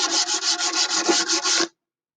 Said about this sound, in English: Maybe just a little bit more sanding right down here.